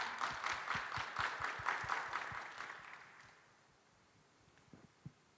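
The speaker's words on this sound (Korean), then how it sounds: "여러분 큰 박수로 맞이해 주시기 바랍니다." An audience applauds at a government innovation expo as an official is welcomed to the stage, steady clapping filling the first three seconds and then fading to a quiet room with a couple of light knocks.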